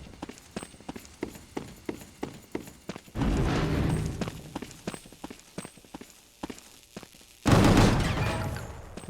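Rapid gunfire from the video game Gungrave Gore crackles in quick repeated shots, broken by two loud, roaring bursts of heavier blasts, close and dominant.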